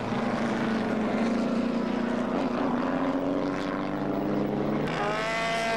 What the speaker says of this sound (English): Sutton in his Connaught.